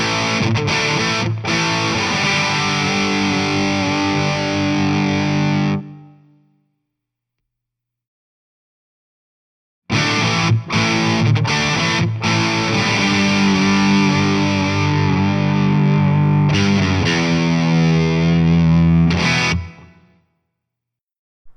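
Heavily distorted electric guitar through a Carvin V3M amp on channel 1's thick setting, played loud in two sustained bursts of chords and riffs separated by about four seconds of silence.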